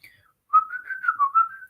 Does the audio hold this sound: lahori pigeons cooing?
no